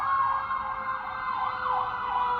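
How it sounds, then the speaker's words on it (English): An ambulance siren passes on a noisy street near Harlem Hospital, its wailing tone rising and falling steadily and loudly, with traffic rumbling underneath. "It's a ambulance."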